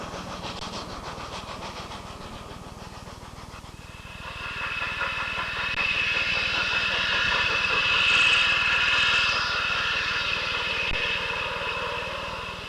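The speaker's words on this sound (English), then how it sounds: "many trains of the Cumbres and Toltec still need two locomotives to make it to the top of the hill" Two Cumbres and Toltec steam locomotives doubleheading up a steep 4% grade give a loud, sustained rumble that swells midway, with a high steady tone riding over the rolling train noise.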